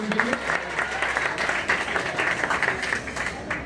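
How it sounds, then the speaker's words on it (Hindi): An audience gives a round of clapping at a gathering honouring Lalai Singh Yadav's birth anniversary, dense and steady for a few seconds at moderate volume, with faint voices mixed in. "एक बार जोरदार ताली बजाइए"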